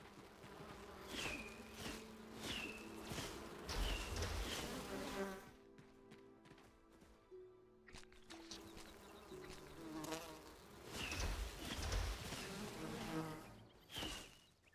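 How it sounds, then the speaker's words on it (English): Bees buzz outdoors on a cold, foggy evening, several passes swelling and fading close by, with a quieter stretch in the middle before the buzzing returns. "I hear bees."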